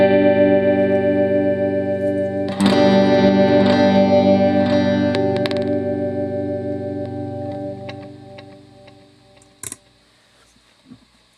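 Guitar chords ring through a Joyo D-Seed delay pedal, repeating in sustained echoes that thicken when a new strum lands, then slowly fade away, with clicks and knob-turning taps near the end.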